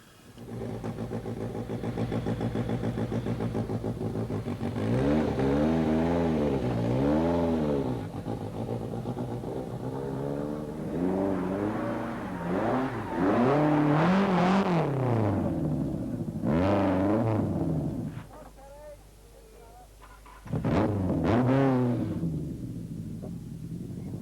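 Rally car engine on a steep icy stage of the 1985 Lombard RAC Rally, revving repeatedly with rising and falling whines and wheelspin surges, close and loud, briefly dropping away before revving again.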